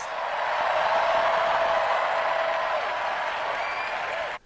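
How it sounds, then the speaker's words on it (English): Dense crowd at a political rally cheering and applauding loudly, a steady sustained roar of claps and shouts that holds at full volume for several seconds before cutting off abruptly. "The noise, the volume from the crowd was absolutely amazing."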